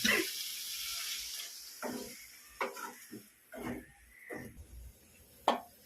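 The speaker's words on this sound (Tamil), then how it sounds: "தண்ணி கொஞ்சம் ஊற்றிக்கலாம்ப்பா" Water splashes into a pot of boiling fish curry for about a second, then fades into scattered knocks, clinks and scrapes of kitchen utensils.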